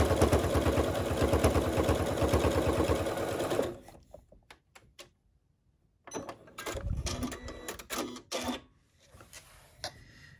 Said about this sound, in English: let's head over to the sewing machine and let's take care of that.